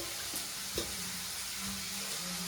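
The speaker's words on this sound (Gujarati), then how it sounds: "હવે નાખી દઈશું આમાં ધાણા જીરું" Coriander and cumin seeds drop into a little hot oil in a home kitchen and sizzle with a steady soft hiss. A couple of brief clinks or stirs stand out near the start.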